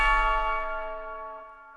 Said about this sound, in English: The next thing that was added on that beat was this bell. It's like a trap bell